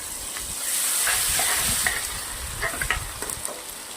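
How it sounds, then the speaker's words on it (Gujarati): Cumin, crushed garlic and ginger crackle and sizzle in hot mustard oil, a dense steady hiss with scattered pops and a few soft stirring knocks, close and alone with no talking. "સરસું તેલ ગરમ થઈ ગયું છે હવે આપણે જીરું નાખું છું"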